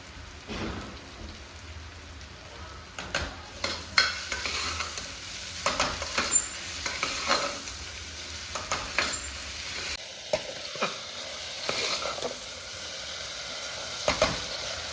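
Vegetables for Kathiyawadi vaghareli khichdi sizzle steadily in a pan while being stirred, with repeated scraping and clinking strokes over the continuous frying hiss.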